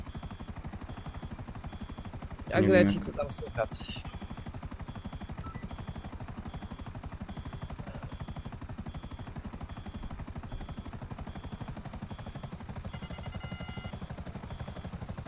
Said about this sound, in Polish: lecimy helikopterkiem, tutaj mamy piękne budynki